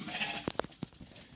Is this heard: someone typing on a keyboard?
no